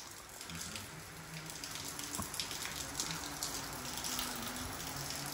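Rain falls steadily on a village in Punjab as a soft, even hiss of drops, faint and constant throughout with no one speaking.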